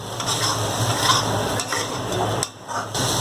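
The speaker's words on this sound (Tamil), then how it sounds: "இந்த மசால் எல்லா இடத்துலையும் படாத மாதிரி நல்லா கிளறி விடணும்." White chickpea sundal is stirred with masala in a pan: a continuous close scraping and tossing over a soft sizzle, with no voices.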